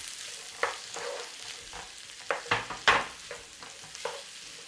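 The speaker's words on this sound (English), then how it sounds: "that's rice bran oil. And I want a little bit of butter in there. Right, in there, onion and garlic." Onion and garlic sizzle in rice bran oil and butter while being stirred, a soft frying hiss broken by several sharp scraping stirs close by, with no speech.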